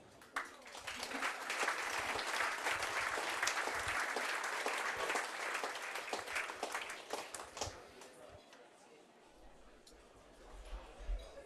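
An audience at a founding ceremony for Tilsit applauds to welcome a speaker, with sustained dense clapping that slowly thins out and then falls quiet near the end.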